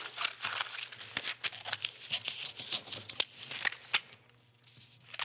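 Scissors snip through a paper sewing pattern in a steady run of crisp cuts, with rustling and crinkling of the sheet as it is handled, close and clear.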